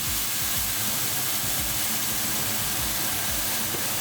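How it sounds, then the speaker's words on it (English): Carne asada steaks searing in a searing-hot cast iron pan, a loud, dense, continuous sizzle and hiss heard close up without any talking. "Once they're dry, they're ready for a searing hot cast iron pan."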